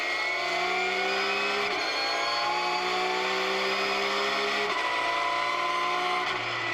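Race cars at speed around a circuit with Shane Van Gisbergen driving; several high engine notes sweep and shift gears repeatedly, a continuous loud pack of cars rather than a single pass.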